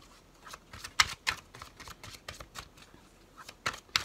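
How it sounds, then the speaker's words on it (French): Oracle cards being shuffled and drawn by hand, a run of soft, quick riffling flicks and papery slaps in an irregular rhythm, close and fairly quiet, with a few sharper snaps standing out, no talking. "Alors là, je vais tirer aussi deux cartes."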